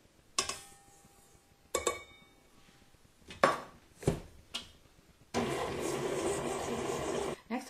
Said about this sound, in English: I'm going to start by creaming a half a cup, that's 1 stick of softened butter, with 1 cup of granulated sugar